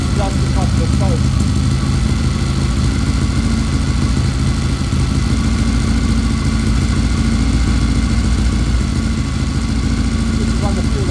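A Triumph Bonneville T120 motorcycle engine idles loudly and steadily throughout, running fuel through, with a constant mid-pitched throb.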